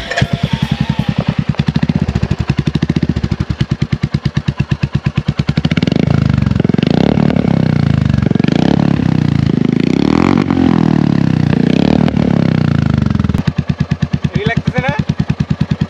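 Motorcycle with an aftermarket silencer started and left idling, a loud rapid popping exhaust beat with brief revs swelling and falling, close by, while people talk over it.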